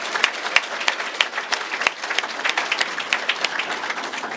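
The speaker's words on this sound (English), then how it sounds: "How about one more round of applause for all of our award winners tonight?" Sustained applause from a banquet audience honoring award winners at a chamber of commerce dinner, dense steady clapping from many hands filling the room throughout.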